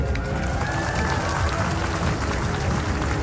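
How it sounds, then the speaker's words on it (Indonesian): Crowd applause rolls on steadily and loudly throughout at an outdoor ceremony honoring young participants, with Brimob police present, a dense wash of many hands clapping mixed with crowd noise. "Tepuk tangan semuanya, keren."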